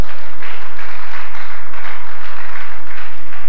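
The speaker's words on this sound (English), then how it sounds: "Clap your hand for Jesus Christ." A church congregation claps hands together in steady, dense applause, loud and close, with no voices standing out.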